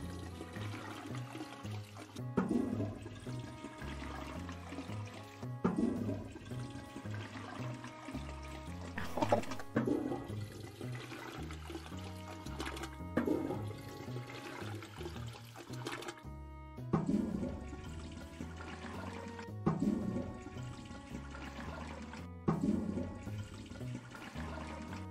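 Toilet flushing sounds in the video game Toilet Flushing Simulator, a run of repeated flushes and gurgling water rushes recurring every few seconds over a steady game-audio background, fairly quiet with no talk.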